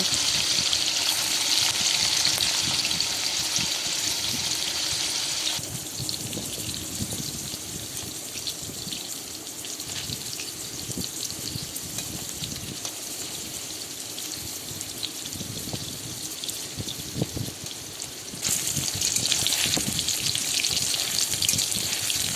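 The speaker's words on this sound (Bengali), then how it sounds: "একই তেলের মধ্যে আমি আরও এক চামচ পরিমাণের ঘি দিয়ে দেব এবং পনিরগুলো ভেজে নেব" Paneer chunks frying in oil with added ghee in a pan for Bengali chhanar polao, giving a steady broadband crackling sizzle throughout that eases slightly in the middle stretch and rises again near the end.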